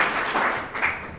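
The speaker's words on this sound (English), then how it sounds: "do we want to applaud?" A short burst of applause from a small audience at a university capstone presentation, soft, continuous clapping heard at moderate distance.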